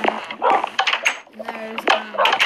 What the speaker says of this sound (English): So here's my dog Luna,